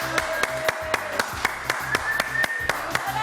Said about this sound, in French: Miss JJDA ici présente, qu'on applaudit très très fort